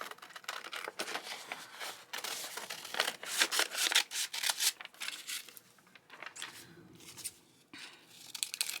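Scissors cut a flower vase shape from paper, giving close, crisp snips and rustling paper scrapes in irregular bursts, busiest in the middle and quieter toward the end, with no talking.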